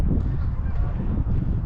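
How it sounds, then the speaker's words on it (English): Canada geese honking in large numbers overhead on an outdoor walk in Calgary, a dense continuous flock chorus under steady low wind rumble. "Geese."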